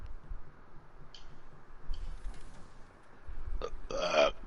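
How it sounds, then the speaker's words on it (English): A single loud, close burp rumbles near the end, following a stretch of quiet background noise and a few clicks. "Belch!"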